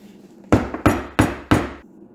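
Four sharp metallic hammer strikes, evenly spaced about a third of a second apart, ring out close and loud as a small hammer knocks at a seized brake part on a 1948 Packard Super 8, each blow decaying quickly.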